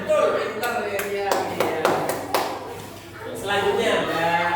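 Children clapping hands together in an elementary school civics class, a quick run of rhythmic claps in a patterned beat, with voices talking over and around them.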